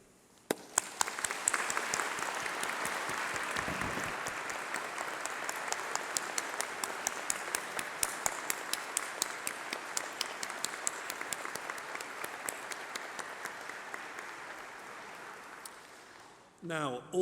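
A graduation ceremony audience applauds families, friends and tutors in a large hall, steady crowd clapping building after a single sharp start and holding for a long stretch before fading out at the end.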